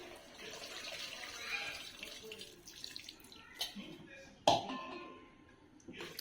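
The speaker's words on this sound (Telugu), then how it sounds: "ఇప్పుడు చింతపండు రసాన్ని వేస్తున్నాను" Tamarind water poured into a pan of brinjal curry, a soft splashing trickle of liquid running for several seconds with a sharper clatter midway, close and fairly quiet.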